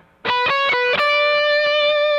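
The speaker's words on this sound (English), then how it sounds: "I'm going to go ahead and use more of an electric kind of sound here." Distorted electric guitar plays a short overdub phrase: several quick picked notes, then a note held and sustained to the end, loud and close with no talk.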